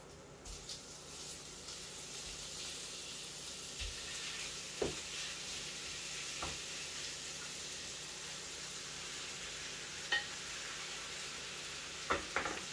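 Meat sizzles steadily in hot olive oil with garlic in a pan, a constant close frying hiss broken by occasional clicks and soft stirring knocks.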